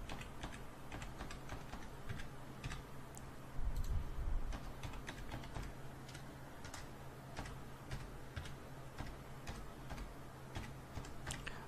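Someone types a name and email address on a computer keyboard, a steady run of light, fast key clicks over a constant background hum, with no talking.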